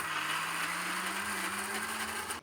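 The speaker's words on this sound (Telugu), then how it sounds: "ఇప్పుడు కొద్దిగా నీళ్ళు వేసుకొని మిక్సీ పట్టుకుందాము" A mixer grinder blends chutney with added water, its motor a steady, loud whirring drone with grinding texture that holds constant before cutting off at the end, with no voices.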